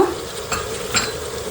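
Brief scraping of a spoon stirring a tempering of seasoning for palak pulao in a pan over a soft sizzle, with two quick metallic strokes.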